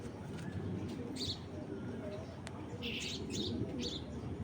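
Tournament breeder Giribaz pigeons coo and chirp softly in short bursts, faint against low background noise, with people talking quietly nearby.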